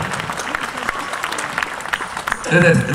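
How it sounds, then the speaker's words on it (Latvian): Audience applause in a concert hall at a choral or sextet performance in Smiltene, a steady broad clatter of clapping running throughout and swelling louder toward the end. "Paldies par aplausiem."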